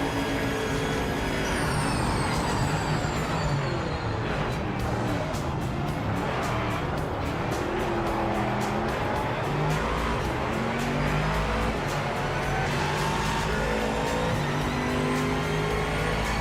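GT3 race cars roar side by side in a drag race in a Project Motor Racing or Rennsport sim, engines screaming loud and steady through rising gear pulls and shifts, with no talk.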